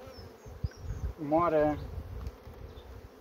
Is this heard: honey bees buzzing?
yes